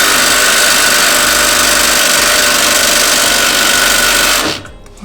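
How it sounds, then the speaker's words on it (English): An impact wrench hammers steadily and loudly at a stuck track bar nut on a Jeep Wrangler YJ, a close continuous rattling whir that cuts off abruptly near the end. "first what I'm gonna try to do is just hit this with the impact and see if I can break this nut loose"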